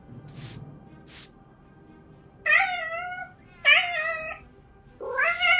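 Cartoonish cat meows in the video game Echoes from Levia: Soulbound, three clear, rising mews spaced about a second apart and loud in the foreground, following a couple of faint brief ticks.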